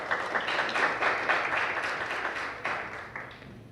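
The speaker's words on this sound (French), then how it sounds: "Sous vos applaudissements." Audience applause at a national debate contest final, dense clapping from a crowd that holds steady for a few seconds, then surges briefly again before tapering off.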